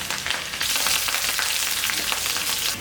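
Chopped garlic and sliced green chillies hiss and sizzle in hot oil, a loud, close, continuous frying crackle that swells as they hit the pan.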